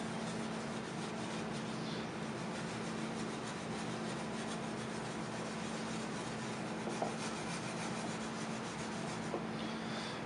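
Steel wool rubs across a guitar body's Tru-oil finish in a luthier's shop, a continuous soft scratchy hiss with steady back-and-forth texture and a faint constant hum underneath, close and unbroken.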